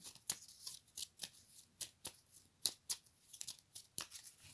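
A deck of tarot cards being shuffled and cut by hand, a quiet close run of riffling bursts and soft snaps in irregular rhythm, no talking.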